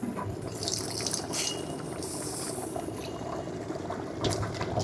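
Squeezed lemon juice is poured into soaked rice for beef biryani in a large cooking vessel, producing a continuous soft liquid trickle and splash with a slightly brighter swell near the end, close and without talk.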